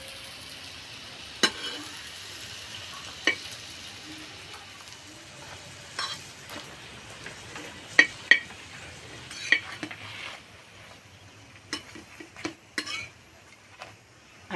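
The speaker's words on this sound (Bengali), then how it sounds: "এই সাইডগুলো এইভাবে একটু ভেজে নেব" Aloo paratha frying in a pan, a soft low sizzle running throughout with scattered sharp clicks and scrapes of a utensil against the pan, a few louder taps near the end.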